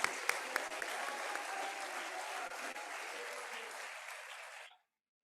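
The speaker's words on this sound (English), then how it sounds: "give applause to your faculty." An audience at a university inaugural ceremony applauds its faculty, a dense, even burst of clapping that holds steady, then stops abruptly.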